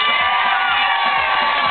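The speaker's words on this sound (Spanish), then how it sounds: "¡Aplausos para ella!" Audience at a karaoke contest cheering and shouting for a contestant, a dense, loud, continuous crowd roar with whoops and children's shouts and no distinct clapping.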